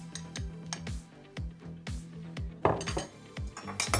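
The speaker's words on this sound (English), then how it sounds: "I'm going to stir through a spoonful of my chili oil." A spoon clinks against a pot or bowl while chili oil is stirred into a simple rice dish, giving a series of sharp, close metallic taps in an uneven rhythm, fairly loud and with no talk over them.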